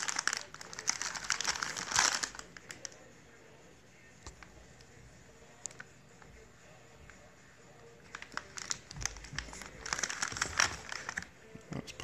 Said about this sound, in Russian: Сейчас будем распаковывать.